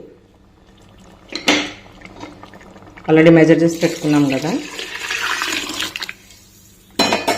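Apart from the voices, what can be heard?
water poured into a pot of foxtail millet and moong dal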